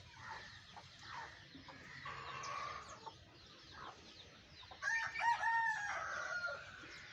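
Chickens in a rain-soaked, waterlogged coop cluck and murmur quietly throughout, and a rooster crows partway through. The sounds are soft and close, with no talk.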